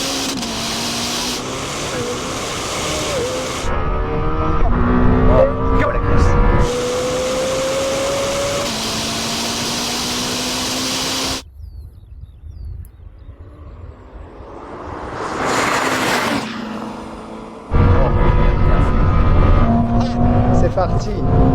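A Lamborghini Temerario and a Ferrari SF90 drag race, loud engines rising in pitch through gear changes, then a quieter stretch before roaring again, with people talking over the noise.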